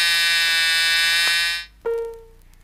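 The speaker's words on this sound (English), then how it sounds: "the buzzer should sound" A Chrysler seat belt warning buzzer sounds loud and steady for about a second and a half, cuts off, and then a brief lower tone follows.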